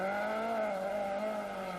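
A Mark II Ford Escort rally car on a stage rally drives past, its engine a strained, steady note with a faintly wavering pitch, loud and sustained for a couple of seconds.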